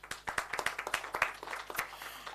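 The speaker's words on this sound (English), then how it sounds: "So just a warm applause for her," Warm applause from a modest audience at a media breakfast, an uneven patter of claps at moderate distance that carries on briefly and stays fairly soft.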